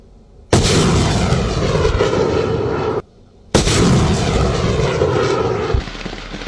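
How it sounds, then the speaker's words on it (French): A multiple rocket launcher (Stalin's Organ) fires two long, roaring bursts, each a sustained rushing blast lasting a couple of seconds, separated by a short silent gap. "comme ici avec ce multilanceur de roquettes communément appelé Orgue de Staline"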